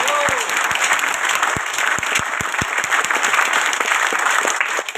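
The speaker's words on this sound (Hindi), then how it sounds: "इसके लिए एक बात तालियां होनी चाहिए" A seminar audience breaks into applause, a broad, steady wash of many hands clapping with a few loud individual claps near the front and a faint voice briefly underneath.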